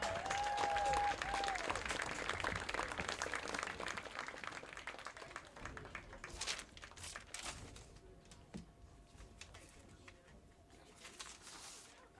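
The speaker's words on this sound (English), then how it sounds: "let's have one last round of applause for your Vernon Viking senior class" Sustained applause from a crowd at a high school boys soccer senior night, loud at first and gradually thinning out, with scattered claps and some faint birdlike chirps near the end.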